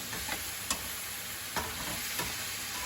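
Food stir-fried in a hot pan with black pepper, a quiet steady sizzle broken by a few sharp scrapes and knocks of a spatula against the pan, with no talking.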